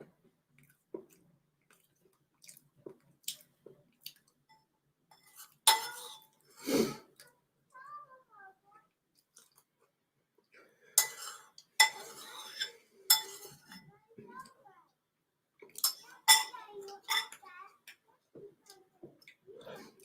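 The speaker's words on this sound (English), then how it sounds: "Bought a new microphone so you could hear me eat cake better." Someone eating cake with cutlery close to a new microphone: irregular clinks of utensils on a plate mixed with soft chewing and mouth sounds, with brief quiet gaps between bursts.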